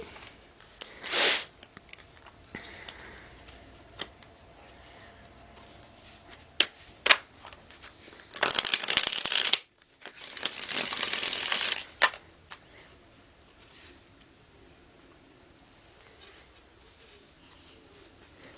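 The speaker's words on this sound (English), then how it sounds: "I have one more shuffle" Tarot cards are shuffled in quick riffling bursts, with a couple of short shuffles and two longer ones, close up in a quiet room.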